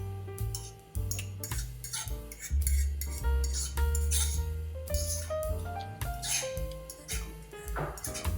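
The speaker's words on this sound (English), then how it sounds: "So what I'm doing now is just to use the fork and just scrape it down" A fork scrapes around the edge of a cooking pot holding milk in a kitchen, producing repeated metallic clinks and rubbing strokes over a busy musical background, close and moderately loud with no speech.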